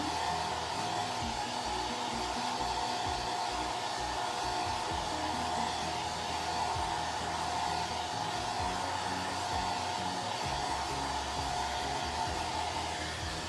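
A heat dryer blows a steady, loud, unbroken whir throughout while drying a Chalk Couture transfer, with no talking over it.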